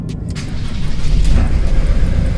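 A Ford Transit van engine, run on flushing oil during an oil change in a garage, cranks and catches, then settles into a steady close rumbling idle.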